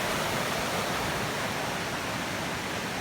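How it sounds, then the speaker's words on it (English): A whitewater hydraulic rushes in a river along the Appalachian Trail, a steady dense roar of churning water at constant loudness throughout, with no voices. "There's a little hydraulic, I think that's what they call them when you're doing whitewater rafting."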